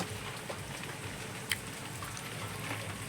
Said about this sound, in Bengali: চলো বন্ধুদেরকে একটু বৃষ্টির সন্ধে